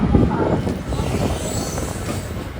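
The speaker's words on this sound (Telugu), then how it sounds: "ఇక్కడ ఏదో ట్రైన్ ఉంది. సో భువనేశ్వర్ నుంచి భువనేశ్వర్ ఎక్స్ప్రెస్ ట్రైన్ ఇది." Bhubaneswar Express at Katpadi Junction produces a loud, continuous rumble of railcars with faint squealing, heard close on the platform.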